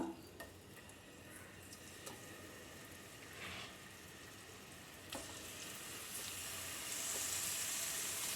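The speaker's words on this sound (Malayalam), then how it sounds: "നമുക്ക് മീനിട്ട് കൊടുക്കാം" Sardines sizzle in sesame oil in a pan over a medium flame, a soft, steady frying hiss with occasional clicks and pops, faint and close, with no talking.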